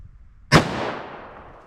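A single loud, sharp gunshot from a .357 Magnum revolver with a 4-inch barrel firing a Corbon DPX load cracks close by out of quiet, then its echo trails away over about a second.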